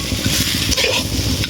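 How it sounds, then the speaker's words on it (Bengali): Boiled potatoes are mashed and mixed with salt, chopped green chilli and fried nuts. Quick squelching, scraping strokes repeat in a steady close-up rhythm throughout this short stretch. "সিদ্ধ আলুর সঙ্গে এইভাবে থেতলে থেতলে সব কিছু ভালো করে মিক্স করে নেব"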